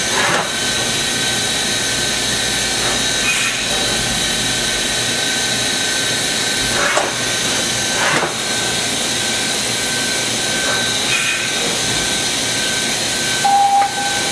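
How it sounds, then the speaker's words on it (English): A Kitamura HX300 horizontal machining center changing pallets, a continuous loud mechanical whir and hiss with intermittent clunks and shifts partway through, no voices. "here's the pallet change on the Kitamura HX300"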